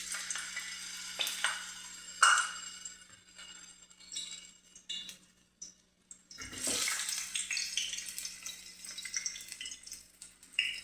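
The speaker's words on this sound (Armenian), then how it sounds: "արդեն այստեղ տաքացել է ձեթը և կարող ենք ավելացնել թթմիկը" Pumpkin pieces dropped into heated oil in a home kitchen pan, giving a sudden burst of crackling sizzle partway through that keeps fizzing and popping, with scattered utensil clatter before it.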